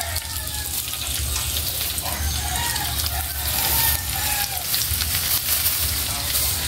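Dried fish (tuyo) frying in oil in a pan for a breakfast dish, a loud, dense, continuous sizzle close by, steady throughout with faint clinks of stirring.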